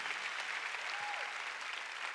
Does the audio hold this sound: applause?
yes